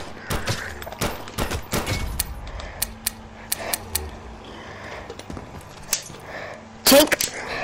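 Video game gunfire and explosions blowing up zombies, a scattered string of sharp shots and thuds at irregular intervals, mixed with a bursting blast near the end and casual voices talking.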